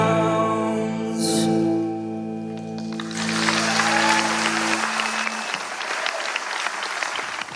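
Audience applause for a band at a 2013 battle of the bands, a broad clapping roar swelling in as held musical notes fade, then continuing loud and steady to the end.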